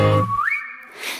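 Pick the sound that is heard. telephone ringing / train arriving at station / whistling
whistling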